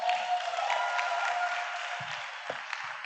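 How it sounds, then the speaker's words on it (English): An audience at a church youth forum applauds, a broad, continuous wash of clapping that holds steady and fades slightly, with a couple of low thumps near the end. "make a joyful noise and clap your hands together"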